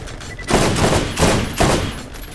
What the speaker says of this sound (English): Come on, assault rifle.